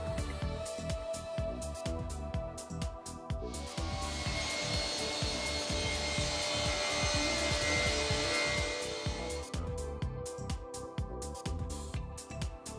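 A Felder C3 31 Hammer combination machine with sliding table saw cuts through a wood panel, the blade's steady whine swelling loud in the middle of the pass over a running motor and dust extraction, with workshop clatter before and after.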